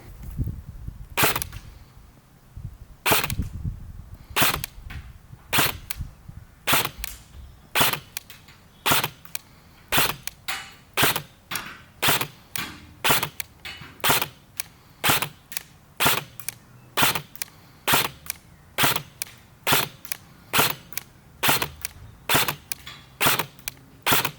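A gel ball blaster fired on semi-automatic over a chronograph, sharp snappy shots repeating at a brisk, slightly uneven pace, roughly one to two per second, loud and close with no talking.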